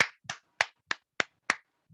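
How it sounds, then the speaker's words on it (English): A small group of students in a classroom claps in six separate, evenly spaced bursts, sharp and close, with no talking. "applause."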